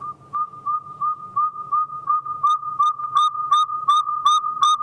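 An electronic playback of a saw-whet owl call in a forest: a steady, evenly spaced run of clear whistled toots, loud and close, repeating throughout with no voices.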